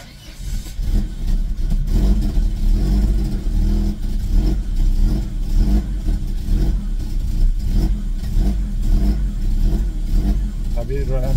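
A car engine with a swapped, immobilizer-bypassed ECU runs steadily close by, unable to hold idle and revving up and down unevenly throughout, with a voice talking intermittently over it.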